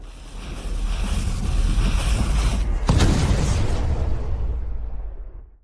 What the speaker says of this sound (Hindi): और तोपों ने शहर को हिला डाला।